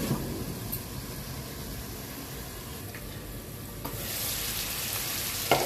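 Pork curry with small, thick Naga chillies frying in a pan, a steady close sizzle and crackle with occasional stirring scrapes, the hiss growing slightly louder toward the end.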